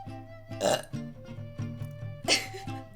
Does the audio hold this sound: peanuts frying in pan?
no